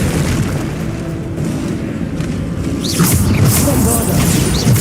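In Hogwarts Legacy, Bombarda explosion spells go off as heavy booming blasts amid swooshing magical effects and continuous combat noise, loud and dense throughout.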